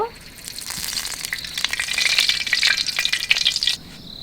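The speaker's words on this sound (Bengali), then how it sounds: "কড়াইটা আমার গরম হয়ে গেছে, এতে আমি তেল দিয়ে দিব।" Oil hits a hot wok and crackles into a loud, hissing sizzle that rises and holds for a few seconds before cutting off abruptly, with no speech over it.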